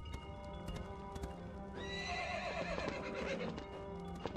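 Horse hooves clip-clop steadily with a horse neighing partway through, over a busy layered background of music-like tones, in the video game LEGO Indiana Jones: The Original Adventures.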